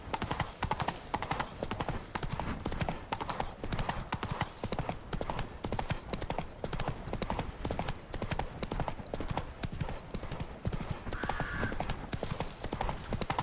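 Steady, rhythmic hoofbeats of the horse Roach galloping through The Witcher video game world, continuing throughout with game music and ambience beneath.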